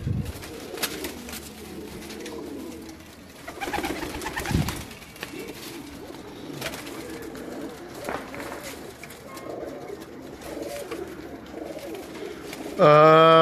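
Pigeons cooing in a loft, soft repeated low coos under faint background noise, with a brief louder sound at the end.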